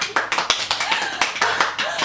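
Applause for Lívia as she wins a good-behaviour award, a brief burst of quick, fairly close handclaps from a small group, ringing out alone with no speech.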